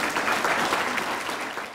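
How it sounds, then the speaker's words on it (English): An audience at a reception for the Scottish Cabinet in Dumfries applauds in a dense, steady round of clapping, fairly loud and sustained, with no voices over it. "So why don't you give yourselves a round of applause"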